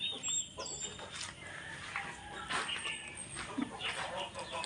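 Chickens clucking in a rural yard, faint scattered clucks and calls against steady background noise, with occasional distant sounds.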